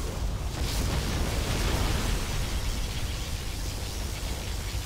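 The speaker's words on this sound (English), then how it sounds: "Particle cannon activated." A particle cannon blast in Command & Conquer Zero Hour sounds as a sustained, roaring wall of noise with heavy low rumble, loud and steady for several seconds without pause.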